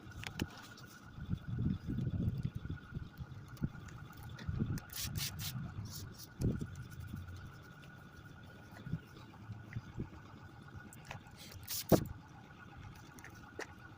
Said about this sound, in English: he's sitting there idling that loud ass truck